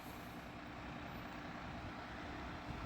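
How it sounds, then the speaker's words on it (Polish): A large diesel bus idles and rumbles steadily nearby at a bus loop in Sopot, a constant engine drone with traffic noise around it. "stąd odjeżdżają autobusy"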